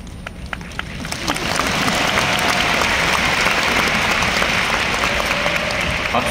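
Convention audience at an Amway spring event bursting into sustained applause, a dense wash of many hands clapping that swells after the first second and stays loud and steady throughout.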